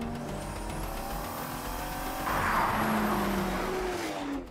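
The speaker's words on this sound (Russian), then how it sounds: "Ричард Хаммонд быстро едет по горной дороге на Бентли" A Bentley drives fast along a mountain road in Georgia, its engine droning steadily and then swelling louder as it revs harder partway through, heard alone without talk.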